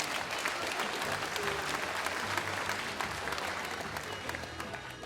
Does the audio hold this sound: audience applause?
yes